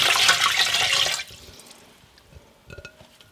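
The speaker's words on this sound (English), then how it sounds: "I'm going to gently add my water and bouillon." Water and bouillon poured into a pot over a whole chicken set breast side down, a loud gushing splash for about a second, then fading to faint drips and small trickles.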